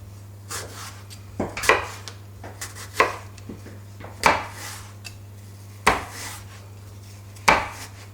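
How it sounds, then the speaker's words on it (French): A knife cuts apples into thin slices on a board, with a series of sharp, close cutting knocks at irregular intervals over a constant low hum, and no talk. "Et là, on coupe. On fait des fines tranches."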